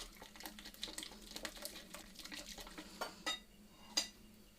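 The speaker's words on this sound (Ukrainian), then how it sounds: "До яєць вливаємо кисле молоко перемішуємо" Eggs and sour milk are stirred together for apple fritter batter, with soft, quiet clinks and scrapes of a utensil against a bowl and a couple of sharper taps near the end.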